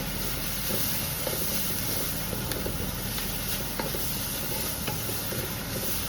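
Green onions stir-frying over very high heat with chicken chow mein in a pan, a dense, even hiss and sizzle filling the space, with a few faint stirring taps and no speech.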